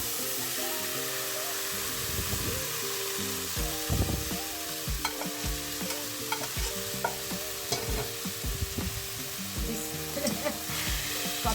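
Leafy greens sizzling in a pan with dried chili tempering, a continuous loud frying hiss broken by repeated scraping stirs of a spatula, close up with no voices.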